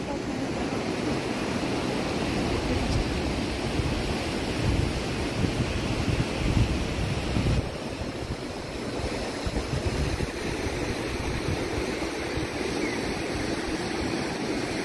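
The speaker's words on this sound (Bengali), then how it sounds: "তীরে আওয়াজ করে চলেছে জল, নিজের গন্ডিতে ছন্দে চলেছে" River water rushes along the rocky shore at Neora Dam, a loud continuous roar and wash of flowing water with rumbling wind buffeting the microphone, no one talking.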